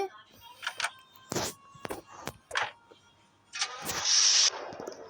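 A car engine in the video game Los Angeles Crimes cranks and catches, then settles into a hum, following scattered game clicks and short sound effects; fairly quiet overall.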